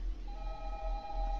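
A telephone rings in the horror game Five Nights at Candy's 2, a steady electronic ring tone sounding alone over a low hum.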